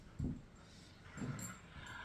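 Puppies whimpering softly, two short whining bursts a second apart, faint and close, with no voices.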